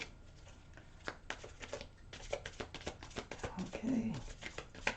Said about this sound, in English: I'm shuffling for Scorpio's universe.